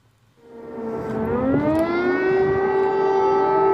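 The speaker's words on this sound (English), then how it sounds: "air raid sirens rang out once more over Kyiv" An air raid siren over Kyiv winds up from silence, its long wailing tone rising and then holding steady and loud, with a second siren layered beneath.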